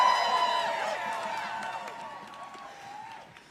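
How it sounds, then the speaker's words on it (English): A rally crowd cheers and whoops for the CFPB, loud at first and then slowly fading over a few seconds. "Let's give a huge cheer for the CFPB."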